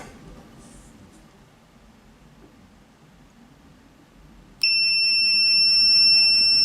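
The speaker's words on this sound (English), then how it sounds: "As you can hear, it's got a nice loud continuity beep" An Owon XDM1041 bench multimeter gives a loud, steady continuity beep, a sustained electronic tone that switches on abruptly partway through and holds to the end over faint room noise.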